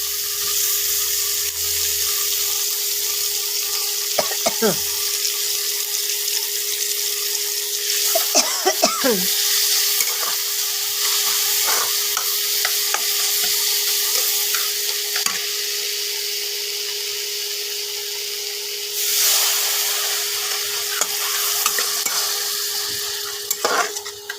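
Spices, including chilli paste, salt, turmeric and cumin powder, being stirred in a hot frying pan for Bengali bhetki fish kalia, with a steady sizzle and scattered scraping stirs of the spoon close by, no talking.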